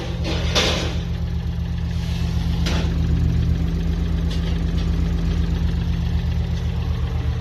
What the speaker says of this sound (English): All right, Pat, the engine is running.